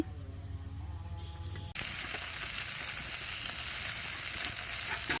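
Okra frying in hot oil in a home kitchen, a sudden loud burst of crackling sizzle as the okra hits the pan after a quieter moment, then a dense, steady hiss held to the end.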